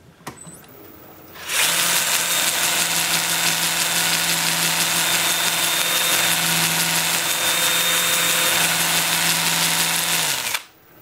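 A wood lathe spins a pedestal bowl forward at 350 RPM, giving a steady, loud mechanical hum with a tonal whine that starts after a brief quiet lead-in and cuts off near the end, with no voices.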